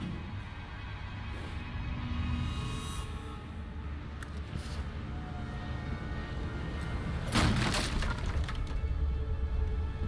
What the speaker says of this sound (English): That loud smashing of a box didn't trigger you?